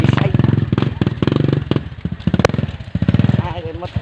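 A motorcycle engine putters close by with a rapid, pulsing beat, a little uneven as it passes, while people chatter loudly over it.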